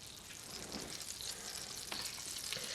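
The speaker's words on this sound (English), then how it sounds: "we are going to add 2 tablespoons of olive oil and 1 tablespoon of butter. We're going to let that melt and start to get hot." Olive oil and butter sizzle and crackle softly in a hot pan, a steady close frying hiss with a few sharp pops, faint overall and with no voices.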